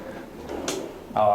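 A mirrored jewelry wardrobe door fixed to its cabinet box swings with soft rubbing and a light knock, then a brighter clack near the end, while someone talks over it.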